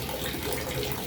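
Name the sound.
water draining from a fishpond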